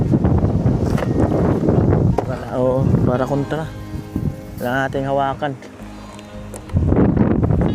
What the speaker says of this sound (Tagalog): Ang hangin pa.